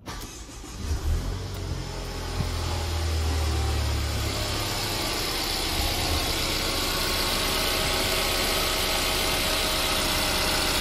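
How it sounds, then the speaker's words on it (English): A Mercedes C-Class W204 engine, just fitted with a new serpentine belt, starts up with a brief crank and settles into a steady, even idle that runs close and constant throughout. "So now I'm going to start this car"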